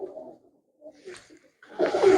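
Domestic pigeons kept as fancy birds coo softly in short, low throbbing calls near the start and middle, followed by a louder burst of mixed sound at the end.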